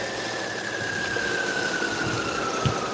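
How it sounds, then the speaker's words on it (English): A battery-powered device gives a thin, steady high-pitched warning squeal that holds throughout. It sits over a noisy background hum with a small bump near the end. "it looks like the battery on my thing is starting to squeal at me"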